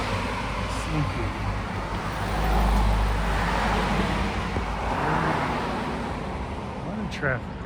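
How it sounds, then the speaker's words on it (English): Road traffic on a quiet residential road, with cars passing one after another as a steady rumble that swells and fades, moderately close, while someone talks over it. "A lot of traffic down this road."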